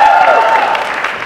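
Onlookers at a Philly Fest 2016 street performance applaud a bottle-of-water stunt choice, a brief, steady round of crowd clapping with some voices, loud throughout.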